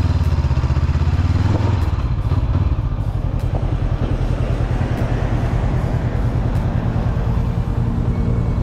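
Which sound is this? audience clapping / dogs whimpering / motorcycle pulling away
motorcycle pulling away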